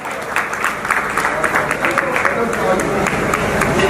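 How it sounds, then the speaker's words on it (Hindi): Loud, sustained applause from an audience at a ceremony crowning a hakeem as professor, dense clapping rolling continuously and swelling slightly toward the end. "इनके लिए जोरदार तालियां।"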